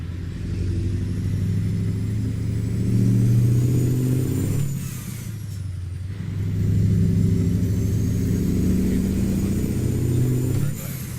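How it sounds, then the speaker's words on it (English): A Mack Superliner truck in American Truck Simulator: a loud, steady engine drone climbs in pitch through the gears, broken by brief breathy bursts of dump valve hiss as it shifts. "I love that dump valve sound."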